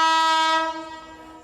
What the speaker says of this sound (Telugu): ట్రైన్ వస్తుంది డార్లింగ్స్